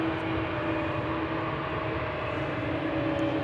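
An Air Baltic Airbus A220 in Lithuanian flag livery, five years old, rolls for departure from the Polderbaan at Amsterdam Schiphol, a steady distant jet roar with a faint whine, unbroken for a few seconds.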